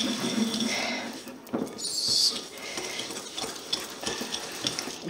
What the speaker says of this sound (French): Et on va remuer.